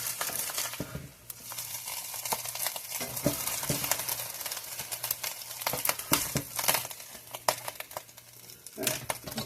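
An egg frying in a pan on a home stove with its yolk broken gives a steady close sizzle, with crackling and soft stirring or scraping noises and no talk.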